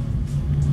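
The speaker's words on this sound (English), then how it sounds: "The absolute best part about this car is the engine sound." A deep, loud 2019 Dodge Challenger HEMI V8 engine rumble, a steady low throbbing idle close by with no other sounds.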